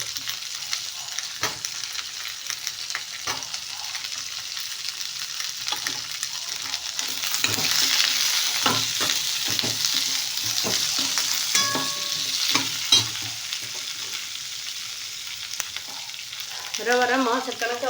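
Onions and tomatoes fry together in a pan with a steady close sizzle, broken by repeated scraping and stirring strokes that grow busier midway; no voice is heard.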